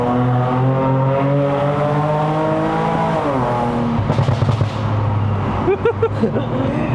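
A Lexus RC350 V6 climbs a mountain road, its engine note rising in pitch through the revs, dipping at a gearshift, then pulling hard again, loud and close inside the cabin.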